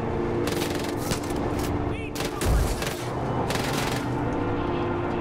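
Bursts of gunfire from the video game Far Cry 5: loud overlapping volleys of shots with a heavy boom near the middle, dense and close.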